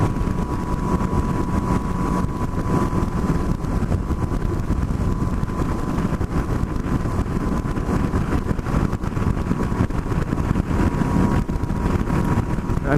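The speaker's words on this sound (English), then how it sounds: "Oh man, that wind." Wind roars steadily against a microphone while a motorcycle rides through Highwood Pass, a loud, unbroken rush with the engine buried underneath.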